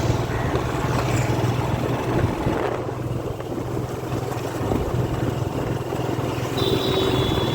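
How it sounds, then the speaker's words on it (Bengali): Steady engine drone and wind rush from a motorbike ride on the way to a saree shop in Malda, continuous and fairly loud throughout with no talking. "বাইকে যাচ্ছি"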